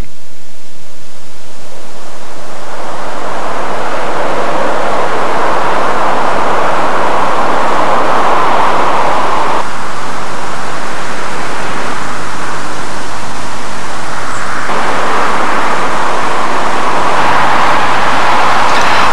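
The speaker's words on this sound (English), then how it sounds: "deafened from the noise of the dual carriageway traffic" Dual carriageway traffic roars beside Pentrebach Road near Glyntaf on the Taff Trail, a loud continuous wash of tyre and engine noise that swells and eases as vehicles pass.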